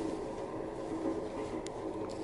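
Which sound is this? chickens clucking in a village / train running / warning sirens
train running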